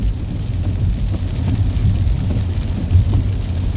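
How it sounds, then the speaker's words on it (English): Steady rain falls across a city, a dense continuous wash of noise with low rumbling undertones, likely passing traffic, holding loud and even throughout with no voices. "because it is raining here in the city of brotherly love"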